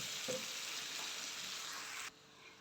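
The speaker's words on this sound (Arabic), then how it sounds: "بعدين انزل بقى بالفراخ بتاعتي في الصوص" Breaded chicken pieces dropped into hot garlic sauce in a pan, giving a steady loud sizzle and crackle that runs continuously and then drops off abruptly near the end.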